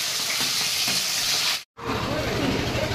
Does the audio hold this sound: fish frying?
yes